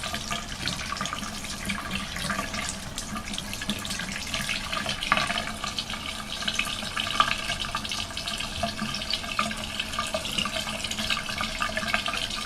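Tap water runs steadily from a faucet while a makeup brush is rinsed and swished over crystals in Swirl and Sparkle brush cleanser, a continuous close splashing hiss with no talk.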